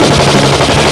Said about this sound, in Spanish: Ráfagas de tiros al aire retumbaban en cada esquina aledaña.